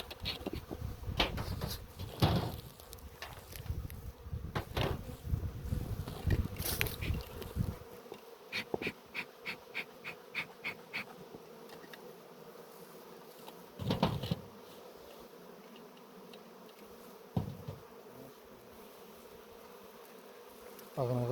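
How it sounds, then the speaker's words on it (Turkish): Steady insect buzzing from many honeybees at a hive during honey harvesting, dense and close at first with sharp clicks and bumps, then thinner buzzing with occasional knocks nearby. "Bakın polenle arıları görüyorsunuz"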